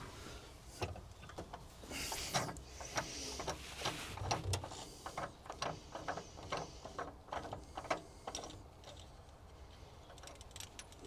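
Air valve being unscrewed from a pre-war Rolls-Royce carburettor, a faint close series of small metallic clicks, scrapes and ratcheting taps in an uneven rhythm.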